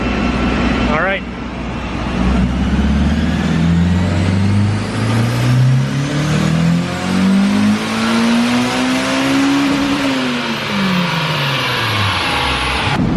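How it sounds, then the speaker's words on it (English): A turbocharged Honda S2000 engine revs hard and accelerates, pitch sweeping upward through the gears with a loud, throaty exhaust roar close by. "So the exhaust is working."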